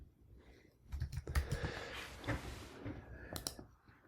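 Keys clatter on a computer keyboard as a word is typed into a browser, a short burst of quick, close clicks in an uneven rhythm with a few separate taps near the end.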